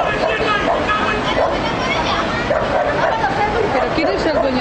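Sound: dog barking and yelping at the beach

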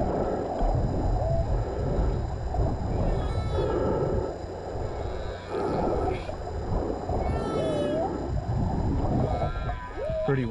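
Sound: whale song recorded underwater while spearfishing

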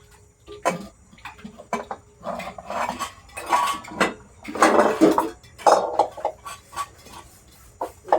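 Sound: washing a kadai pan with soap

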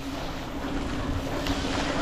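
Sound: flowing rainwater on a road

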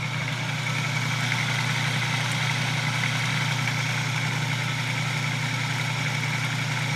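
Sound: salvaged washing machine motor with centrifugal clutch running

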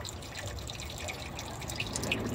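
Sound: flushing water through an evaporative cooler poly line

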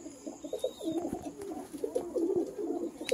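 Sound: pigeons cooing

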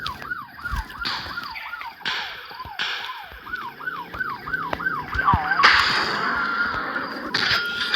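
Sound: police car siren in video game

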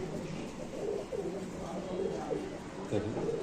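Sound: pigeons cooing at a pigeon market

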